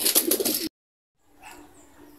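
A racing pigeon back home from a derby gives a few close, soft coos in a short rhythmic burst, followed by a silent gap and then quiet background noise.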